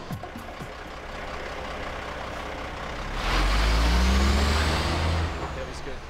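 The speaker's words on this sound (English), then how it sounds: "When the truck pulled away, it went up to 91 decibels." A truck pulls away close by, its engine swelling into a loud, low roar midway before easing off, over steady background traffic noise.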